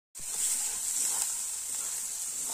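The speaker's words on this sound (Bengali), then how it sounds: "মশলাটা ভালো করে কষিয়ে নেওয়া হবে।" A ground paste of cumin, whole garam masala and cashew frying in a pan gives a steady, bright hiss that starts abruptly and holds evenly for a couple of seconds, close and alone.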